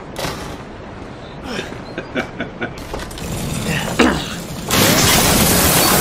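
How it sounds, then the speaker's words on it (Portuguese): Gunshots ring out in the video game Resident Evil 7 as a handful of sharp bursts spaced a beat apart, mixed with game effects and a louder noisy stretch near the end. "Quatro tiros na cara da mulher, a mulher morreu."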